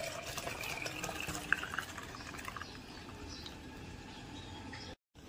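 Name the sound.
milk being poured into a container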